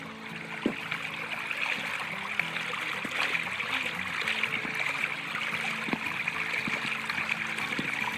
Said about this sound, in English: I didn't think this creek would be flowing.